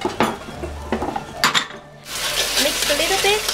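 Eggplant frying in a pan during a cooking class in Dali, China, a steady bright sizzle swelling in for the last second and a half after clinks and scraping of utensils against the pan.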